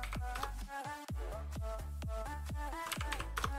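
Quick, even keystrokes clatter on a computer keyboard while playing Tibia, a close, quiet run of about a dozen distinct clicks with no voice over them.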